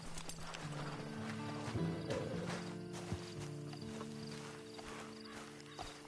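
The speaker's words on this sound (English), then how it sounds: "Then you better get on this horse." Horse hooves clip-clop at a walking pace in Red Dead Redemption 2 Online, amid a busy outdoor ambience, faint and fairly distant, with occasional louder knocks.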